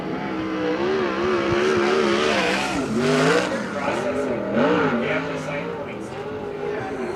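A USAC sprint car runs a qualifying lap, its engine pitch rising and falling steadily as it circles the track at moderate distance, with an announcer talking over it.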